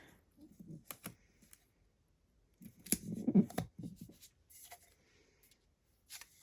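Scissors trim the edges of a printed photo for a sublimation coffee mug, giving several short, close snips and crisp paper cuts spaced irregularly in a quiet room.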